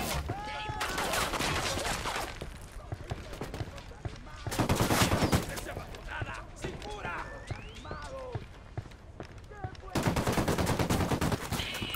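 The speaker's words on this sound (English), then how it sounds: "I'm opening fire." Bursts of video game gunfire from Ghost Recon Wildlands ring out in loud, rapid volleys that come and go over about twelve seconds, mixed with game voices and other combat effects.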